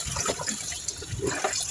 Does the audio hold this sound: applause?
no